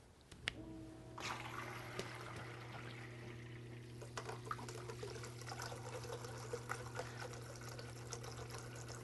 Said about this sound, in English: Now we're going to test the water flow.